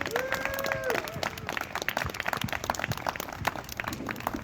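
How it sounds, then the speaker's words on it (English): An audience at a community launch gathering claps in a steady ripple of applause, dense and fairly close throughout, with a brief voice heard at the very start. "So we can just take a moment to have a round of applause for everyone at home and all the work that is."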